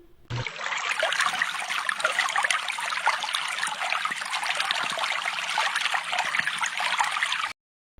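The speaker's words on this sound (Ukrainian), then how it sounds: "Пропоную послухати, як шумить весняний струмочок." A spring brook babbles and trickles steadily over stones, a continuous bright watery rush that runs alone and evenly for about seven seconds before cutting off.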